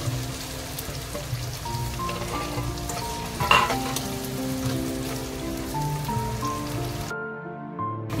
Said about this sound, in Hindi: मैं यहाँ पे 3 बड़े साइज की प्याज ली हूँ, इसे आप गोल्डन फ्राई कर लीजिए